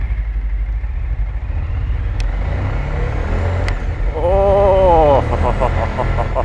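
A two-stroke motorcycle engine revs while riding on a road, a rising, buzzy whine climbing over a constant low rumble of wind and road noise, with a brief exclamation from the rider.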